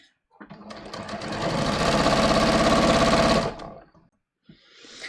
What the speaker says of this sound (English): I'm just going to stitch this pleat all the way down to the hem